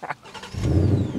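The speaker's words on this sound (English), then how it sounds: "That is the sound of a proper engine" A new Ford Mustang Mach 1 V8 fires up with a short cranking burst that swells into a loud, deep rumbling idle close by.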